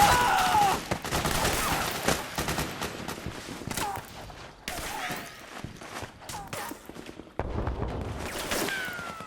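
Rapid bursts of suppressing gunfire in the video game Metal Gear Solid 4, dense volleys crackling one after another with short gaps, loud and close, with thuds and shouted voices mixed in.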